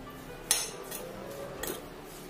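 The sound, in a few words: stirring seasoning and salt in a bowl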